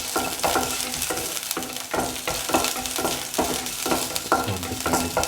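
Garlic pieces fry in a pan, giving off a steady loud sizzle broken by a regular rhythm of spatula scrapes and stirs, roughly once a second, with no voices.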